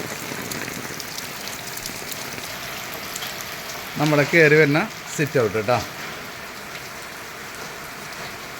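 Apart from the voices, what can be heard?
heavy rain falling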